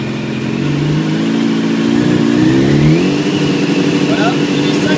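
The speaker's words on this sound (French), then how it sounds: "Vous montez les gaz progressivement." A motorcycle fitted with a GIPro X-Type gear indicator is started and the throttle opened gradually. The engine drone holds steady, then rises in pitch midway as the revs climb, staying loud and continuous throughout.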